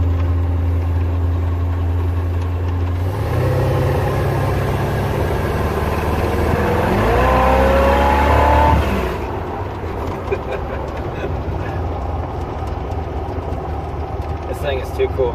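A 1947 Willys Overland hot rod engine idles with a low rumble, then revs up loudly for a few seconds around the middle before settling back, with a person talking over the engine.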